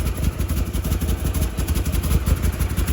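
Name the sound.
2008 Ford Expedition engine running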